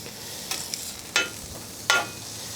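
Cumin and spices sizzle in oil in a pan under a soft, continuous hiss, broken by a few brief scraping stirs, two of them sharper and close.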